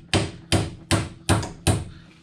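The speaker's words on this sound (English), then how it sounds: "I decided I'll tap her with the hammer" Five light hammer taps strike a rusted car steering shaft while a G-body steering shaft is being installed. The blows are evenly spaced, sharp metallic knocks up close, and no one speaks.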